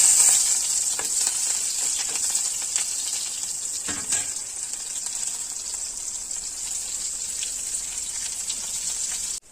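Onions fry in a hot kadai with a steady, bright sizzle throughout, close and fairly loud, with a few soft clicks of stirring and no talking, cutting off abruptly at the end.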